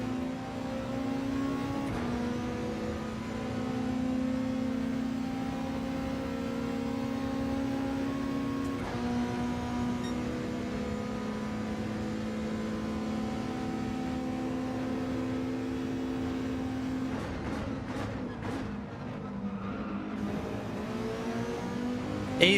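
Volkswagen Beetle engine in Gran Turismo 7 at Bathurst, a steady droning hum held at near-constant revs, briefly dipping around a gear change and wavering near the end, loud and continuous with no talk.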